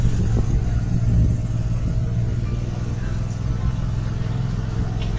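Steady engine rumble from a long line of cars queuing at the Bannerghatta safari parking near Bangalore, a continuous low drone with a slight surge early on, no voices.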